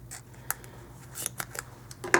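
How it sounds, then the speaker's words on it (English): Scissors snip paper edging for a card-making project in a series of quick, close, crisp cuts, with a few isolated snips followed by a rapid cluster near the end, with no voices. "where's my scissors? I'm going to take some, just a little bit of the edging here"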